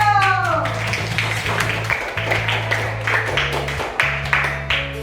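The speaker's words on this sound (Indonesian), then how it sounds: "Kalau sudah kita beri tepuk tangan dulu." Scattered applause from a classroom audience at an Indonesian teacher-training session, a few seconds of clapping over a steady low electronic hum.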